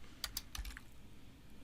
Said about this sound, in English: I'm typing this from memory